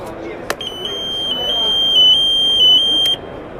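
A Robertshaw freezer trapped-person alarm unit sounds a loud, sustained high electronic tone for about two seconds at a trade expo, starting after a sharp click and stepping slightly in pitch, over a low background murmur of voices.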